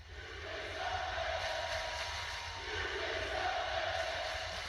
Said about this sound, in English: Crowd really saying their message to Jay.